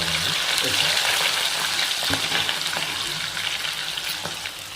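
Chicken pakoda pieces deep-frying in hot oil, a continuous dense bubbling sizzle with occasional stirring knocks, close and steady, no speech.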